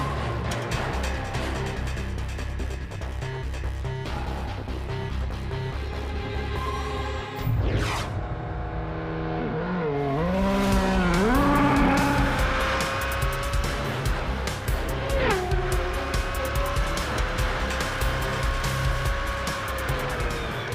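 A Formula 1 single-seater roars past at high speed, its engine pitch sweeping up and down through gear changes, with loud, sustained revving and a brief sharp squeal of tyres.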